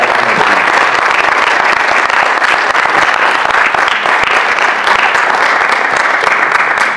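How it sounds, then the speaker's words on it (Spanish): Loud, sustained applause from a large audience honoring a doctor at a public event, dense steady clapping filling the whole stretch without letup. "Y yo, de corazón, pido un aplauso más fuerte para la doctora."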